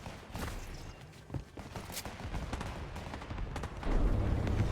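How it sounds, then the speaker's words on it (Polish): Scattered bursts of gunfire in Fortnite crack through a busy background, some sharp and close, others quieter, with rustling movement between shots. "ja słyszę strzały, nie wiem gdzie kompletnie"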